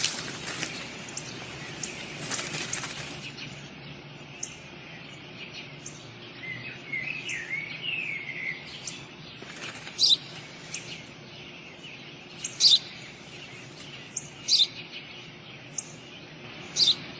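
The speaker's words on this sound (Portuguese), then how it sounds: "Um pardal, pai. Um pardal. É um pardal." A house sparrow repeats short, sharp chirps at irregular intervals, clear and fairly near, after a few seconds of broadband rustling noise, with a steady background hum throughout.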